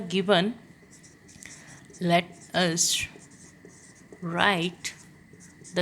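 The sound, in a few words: writing equations by hand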